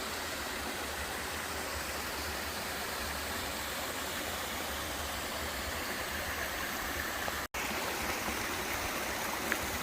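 Steady broadband rush of a waterfall and stream along a hiking trail in the Appalachian mountains, continuous and even at moderate distance, with no voices and one sudden brief dropout.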